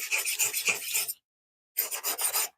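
Knife being sharpened, two close bursts of gritty rasping strokes separated by a short silence, with no talk.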